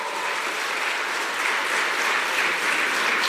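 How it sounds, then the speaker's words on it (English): An audience at an evening event gives a round of applause, a thick, continuous roar of many hands clapping together at full volume with no voices over it. "Please give her a round of applause."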